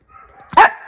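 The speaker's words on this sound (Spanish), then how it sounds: "aunque ladres y ladres" A pet dog gives a single sharp bark, close and fairly loud, preceded by soft whimpering sounds.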